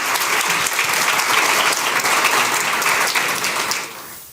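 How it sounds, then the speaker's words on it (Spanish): Conference audience applauding a panel speaker at an event on circular economy and waste, strong steady clapping for about four seconds before tapering off. "Fuerte aplauso para él."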